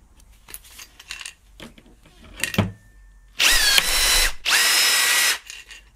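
A Makita cordless quarter-inch rivet gun sets a pop rivet through roughly 7 mm of material, giving two loud sustained motor whirs of about one second each, with softer clicks and handling knocks just before.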